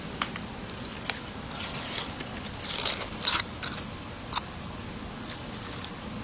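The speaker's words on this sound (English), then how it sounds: "And we'll just peel that paper out." Paper backing peels away from a horse hoof pad in a series of soft tearing, crinkling rips close up, with brief pauses between pulls.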